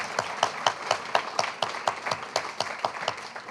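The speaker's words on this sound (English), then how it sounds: "Maybe we give a round of applause to poetry and say thank you." Audience applause at a poetry reading, a steady, fairly soft patter of many hands clapping with regular peaks, continuous and without voices.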